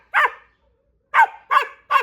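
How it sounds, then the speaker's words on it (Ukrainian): A hunting laika dog barks in four sharp, loud, close barks: one, a long pause, then three in quick succession. "Хай трошки погавкає, хай поцікавиться"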